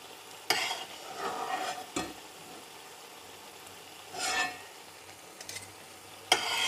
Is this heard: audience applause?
no